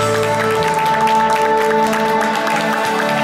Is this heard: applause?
yes